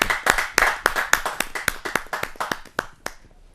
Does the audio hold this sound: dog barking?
no